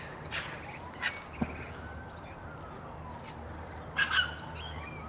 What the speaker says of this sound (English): A wattle bird in there somewhere.